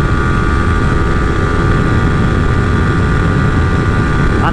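Yamaha R15 motorcycle engine running hard in fifth gear at high speed, a loud steady drone with heavy wind rush throughout and no talking.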